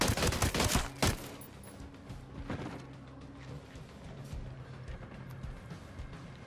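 Gunfire bursts in Ghost Recon Breakpoint, loud shotgun blasts clustered in the first second, then scattered fainter shots under a steady game backdrop.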